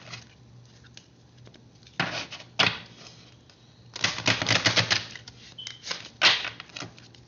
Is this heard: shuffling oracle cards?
yes